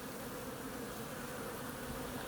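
Honeybees swarm around a sugar water feeder, their many wings making a dense, steady, continuous buzz that stays close and fairly loud throughout, with no talking.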